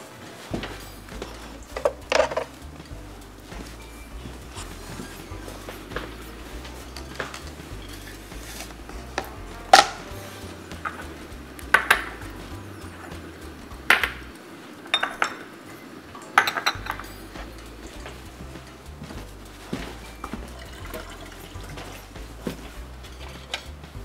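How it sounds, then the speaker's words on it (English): A knife slices bell peppers on a cutting board: scattered sharp taps and light clinks at an irregular, unhurried pace over a quiet kitchen background. "I'm going to start cutting my bell peppers"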